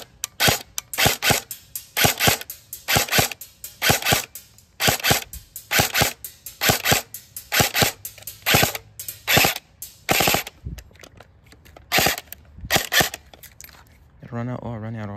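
A stock gun fires shot after shot from a magazine in a quick, uneven string of sharp, loud cracks. The shooting stops near the end as the magazine runs dry, and then a voice speaks briefly.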